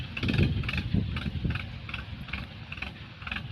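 An empty Mahindra tractor drives out, its engine chugging in a regular pulsing rhythm at moderate loudness, with no talk.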